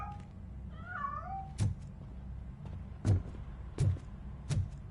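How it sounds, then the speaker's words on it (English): A cat meows in Robocop: Rogue City, two short high mews early on, faint and fairly close, followed by several sharp thumping impacts over a low ambient hum, with no talking. "That cat must be hiding inside."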